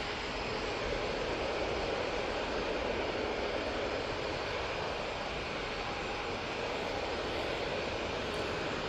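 A TUI Boeing 737-800 jet departs Manchester Airport, its engines giving a loud, steady, broadband roar that holds for the whole stretch with no voices.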